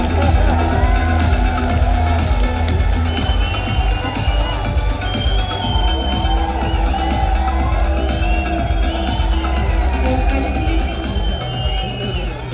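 A large audience at an international expo cheers and roars in a loud, steady wall of crowd noise with scattered whoops, sustained close by and without letting up.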